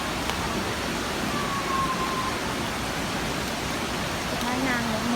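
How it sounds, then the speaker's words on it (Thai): Steady rushing roar of the Huai Luang waterfall in Ubon Ratchathani, heard from some distance during rain, a continuous even wash of falling water with no talking. "เสียงน้ำตกอยู่ฝั่งนู้น"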